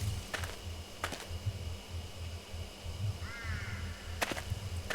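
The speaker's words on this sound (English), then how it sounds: "Crows in the background." Crows cawing in the Death Mark video game, a few short calls spaced across an open-field scene over a low, steady background ambience.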